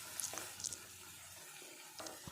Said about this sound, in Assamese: মটৰখিনি দিয়াৰ পিছতো এইখিনি অকমান সময়ৰ কাৰণে ভাজি ল'ম।